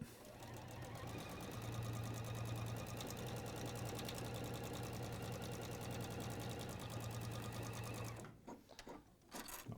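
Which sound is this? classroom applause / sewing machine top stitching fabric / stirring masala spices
sewing machine top stitching fabric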